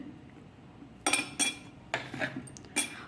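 A spoon clinks sharply against a glass of nannari sharbat four times in quick, uneven succession, close up, over a quiet background.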